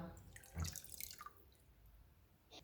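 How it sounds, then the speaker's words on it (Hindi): Water poured into a bowl holding chicken with salt and vinegar for a marinade: a brief splashing burst followed by a soft trickle and faint drips, close by, with no voices. "इसमें पानी डालेंगे"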